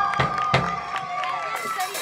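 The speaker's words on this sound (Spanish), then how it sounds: "¡fuerte el aplauso!" A crowd cheers, shouts and claps for a band member at a thank-you event, loud and busy, with overlapping voices and whoops throughout.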